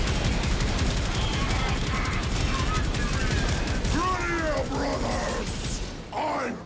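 A launcher weapon fires repeatedly in the Warframe video game, loud dense shots and booms packed together with game effects, while a voice talks over the barrage and it fades near the end.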